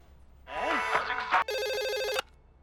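A telephone ringing as a call is placed in a comedy scene, with a warbling tone followed by a loud electronic ringtone burst lasting under a second.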